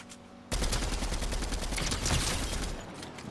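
Sustained rapid gunfire in Fortnite starts abruptly and keeps going as a dense, loud, rattling fusillade with no talk over it.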